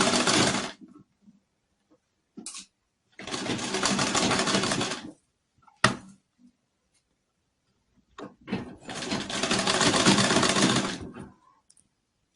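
A sewing machine stitching a blouse seam in two long steady runs of rapid whirring, close and clear, separated by quiet gaps with brief clicks and handling of the fabric.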